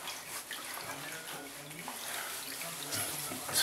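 Cold water runs steadily from a tap into a sink during a shave, a continuous close hiss and splash with faint talk underneath.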